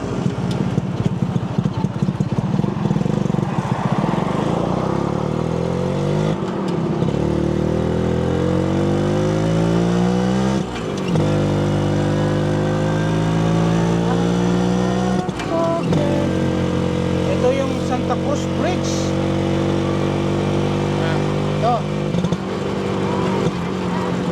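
A Honda HD3 125cc motorcycle engine drones steadily while riding, its pitch climbing repeatedly through each gear with brief drops at the shifts, loud and continuous throughout.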